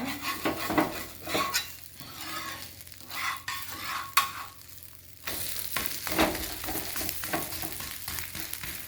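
An adai dosa flipped on a hot pan gives a scrape of the spatula and light clinks, then a steady sizzle of the batter frying that grows louder after the turn, with no talk.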